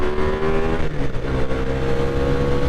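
A Ducati Diavel muscle motorcycle accelerates, its engine giving a loud, close, continuous roar with shifting tone as the revs build, with no voices over it.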